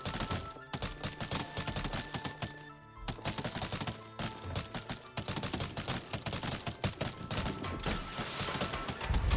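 Rapid plant shooting in the video game Plants vs Zombies Fusion, a dense nonstop stream of loud crackling shots and impacts filling the whole clip.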